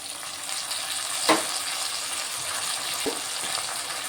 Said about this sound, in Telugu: ఇప్పుడు అల్లం వెల్లుల్లి పేస్ట్ వేసుకుంటున్నాను